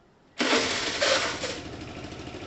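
A Piaggio Typhoon 125cc scooter, fitted with a swapped engine, fires up abruptly after a moment of quiet, then settles into a buzzy, close idle that eases slightly in loudness.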